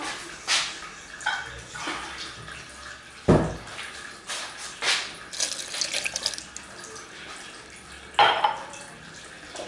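Water poured into a container of freshly made natural juice, irregular splashy bursts and trickles with drips between pours, close and fairly loud.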